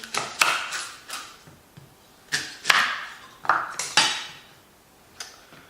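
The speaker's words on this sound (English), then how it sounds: "And then we're going to chop up this onion" An onion being chopped with a knife for frying, heard as about nine close, sharp knocks with a slightly metallic ring, coming in uneven bursts with pauses between and no speech.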